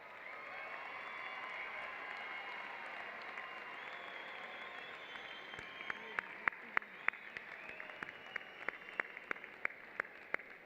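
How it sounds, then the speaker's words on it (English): At an Eastern Michigan University spring commencement, a large audience applauds the graduates, a distant, even wash of clapping with sharper individual claps standing out nearer toward the end. "Let's all give them a round of applause"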